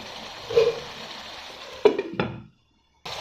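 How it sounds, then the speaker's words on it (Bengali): Fish cooking in a pan gives off a steady, moderate sizzle with a few sharp utensil scrapes and clinks near the end, then goes briefly silent before the sizzling resumes. "মাছটাকে সুন্দরভাবে উঠিয়ে ফুটিয়ে নিয়েছি"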